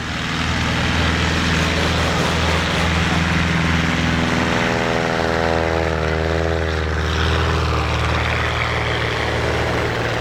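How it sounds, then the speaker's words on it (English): A big Cessna 180 makes its short takeoff roll at a STOL competition at Oshkosh, its loud propeller engine droning steadily close by throughout, with a rising whine as power builds. "234-foot takeoff roll in the big Cessna 180."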